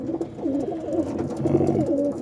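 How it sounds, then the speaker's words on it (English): Homing pigeons coo in a steady run of soft, throaty, rolling calls, close by and moderately loud, with no voices over them. "they're very smart birds, the homers that I have"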